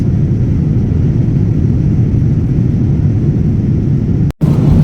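Steady, loud broadband roar inside an airplane cabin on a night flight, a continuous low engine and air drone with no voices, dropping out for a split second near the end.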